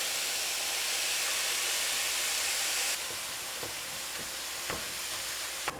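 Ground meat and onions frying in a pan give a steady broadband sizzle that drops somewhat in level partway through, with a few faint clicks of utensils against the pan.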